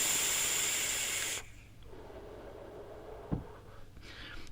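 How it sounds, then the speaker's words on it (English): Air drawn through the tight airflow ring of an Asmodus Voluna v2 RTA vape, a close soft hiss that stops abruptly, followed by quiet room tone, a small click and a faint breathy exhale. "The airflow is slightly noisy, a tiny bit noisy, as you can hear, and it's quite tight."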